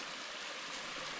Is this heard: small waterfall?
yes